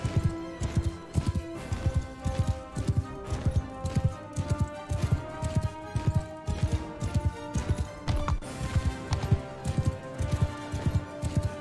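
In Mount and Blade Bannerlord, a swift horse at full gallop keeps up a strong, regular drumming of hooves, near and prominent. A brief whinny-like sound may rise once, and no voices are heard.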